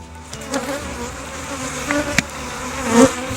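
Honeybees buzz steadily around a hive on a ranch winery, a continuous close drone with individual insects swelling louder as they fly past, and no talking.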